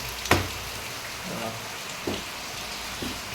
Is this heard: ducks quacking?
no